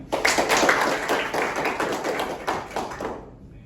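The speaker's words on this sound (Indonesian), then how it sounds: "Aplaus untuk kita semua" Classroom applause, a group of students clapping loudly with quick, uneven hand claps that build for a few seconds and then taper off.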